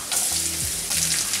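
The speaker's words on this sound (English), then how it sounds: "Keep stirring the onion till it becomes light brown." Onion and sliced garlic sizzling steadily in hot oil in a pan, a close, continuous frying hiss with a soft stirring scrape partway through.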